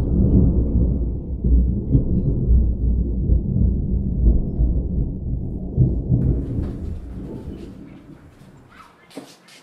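Deep thunder rolls on for several seconds during a storm, a heavy, close rumble that slowly fades out and gives way to a light patter of rain.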